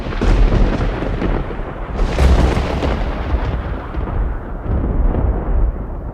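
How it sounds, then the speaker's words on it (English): Loud, deep thunder rolls on and on through a howling gale, a dense rumbling roar that swells and falls across several seconds with no voices. "I heard the roar of thunder"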